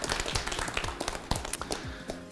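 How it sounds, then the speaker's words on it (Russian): An audience at a school team contest applauds the team captains, giving a dense, steady burst of clapping that carries on for a couple of seconds, close and fairly loud. "Им давайте порцию аплодисментов."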